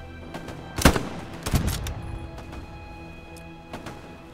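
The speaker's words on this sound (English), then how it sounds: "You got him. Good shot, Waffles." Gunfire in a historical war video game: two sharp, loud shots about a second apart, followed by a fainter crack near the end, with no talk over them.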